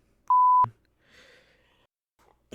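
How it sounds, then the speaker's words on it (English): A single sharp electronic censor beep, a steady mid-pitched tone lasting about a third of a second, is followed by a faint breathy rustle and quiet room noise. "So I guess I'll double beep it."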